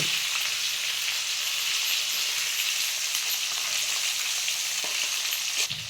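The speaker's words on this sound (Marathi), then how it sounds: "मस्त आता परतून घ्यायचं वांग" Stuffed brinjal sautéing in a pan in a village kitchen, a loud, continuous bright sizzle with a few stirring scrapes near the end and no talking.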